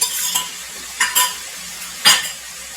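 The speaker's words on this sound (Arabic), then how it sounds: "ونديها تقليب" Liver being stirred in a pan with garlic and chili peppers: a few short scraping strokes of a spoon against the pan over a soft, steady sizzle, with no talking.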